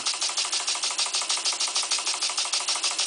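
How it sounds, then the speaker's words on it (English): A Stuart Turner model steam engine from England runs on compressed air, giving a steady, rapid chuffing beat of even air exhaust puffs, close and loud, with no talking. "It's a Stuart Turner model from England, and the steam engine is running on compressed air."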